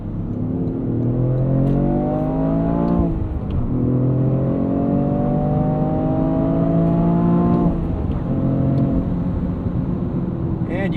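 A 2026 Toyota GR Corolla 300 hp hot hatch drives through the city, its engine droning loudly and steadily through active sound control, with pitch rising and dropping through gear changes.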